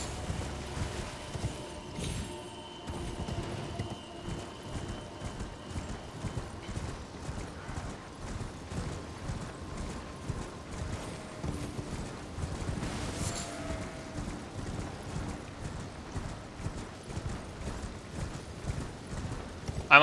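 Horse hooves clip-clop in a steady walking rhythm throughout the Elden Ring game scene, with faint mechanical creaks and a brief whinny-like tone early on; no one speaks.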